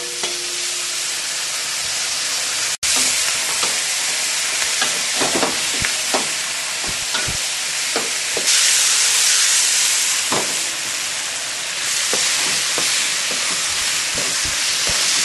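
Sesame chicken frying in a hot pan gives a loud, continuous hiss and sizzle with scattered crackles and stirring scrapes throughout and no voices.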